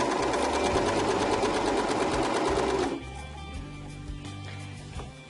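A serger sews a decorative stitch with decorative thread, a loud, fast, steady mechanical whirr for about three seconds that then stops, leaving quiet handling noise.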